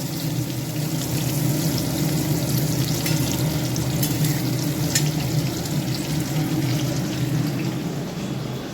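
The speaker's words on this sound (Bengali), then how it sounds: "আর এখানে বেগুন ভাজতে দিয়েছি কিছুটা ভাজা হয়েছে" Eggplant slices fry in a pan with a steady, dense sizzle that stays loud and close for the whole stretch, with no talking.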